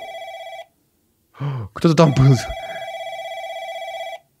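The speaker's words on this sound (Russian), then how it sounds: "Я слышу тебя, телефон, я слышу." In a video game, a telephone rings in long electronic bursts, loud and close, pausing briefly while someone speaks before the ringing resumes.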